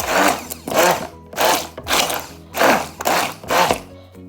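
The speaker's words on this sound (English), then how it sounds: "Now I'm just going to give it a blend." A blender, likely a stick blender, works chocolate ganache for macarons in about seven short pulses, each a loud whirring burst separated by brief pauses, with a low motor hum between bursts.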